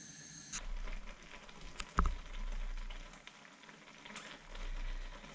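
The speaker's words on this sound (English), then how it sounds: "It's now come to the boil" Lentils in water in a pan coming to the boil for Roman pulse cookery, a soft bubbling and sizzling hiss with low rumbles and a few light knocks, close by and without talk.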